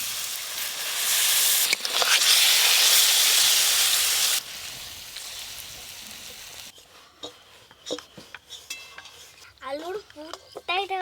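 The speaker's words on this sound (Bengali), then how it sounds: "সুন্দরভাবে গ্রেভিটা ফুটে গেছে।" A pot of egg curry gravy made with tomatoes hisses loudly as water is poured in, the burst dying down after a few seconds, followed by quieter bubbling and clinks and scrapes of a spoon against the pot.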